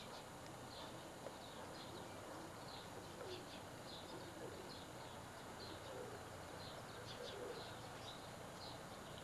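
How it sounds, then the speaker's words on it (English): Pigeons kept as stock birds coo softly in a loft, low and muffled under a steady wash of background noise, with faint higher chirps scattered throughout. "A couple of real nice pigeons in here."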